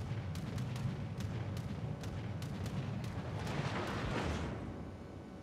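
Naval gunfire in the World of Warships: Legends game, a battleship under attack from an enemy cruiser, heard as a steady rumbling barrage with repeated sharp distant shot cracks and a swelling roar of impacts near the end.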